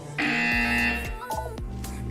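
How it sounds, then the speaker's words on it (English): A loud, steady electronic buzzer from the Portal 2 video game sounds for about a second, followed by a few short mechanical thumps and clanks in the game's test chamber. "When you hear the buzzer, look down at the floor."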